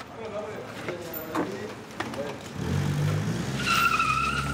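A car speeds through a city intersection in wartime Aleppo under sniper fire, its engine rising into a close, loud roar with tire noise in the second half, after a stretch of quieter street ambience with brief sharp knocks.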